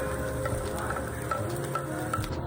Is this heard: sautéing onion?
yes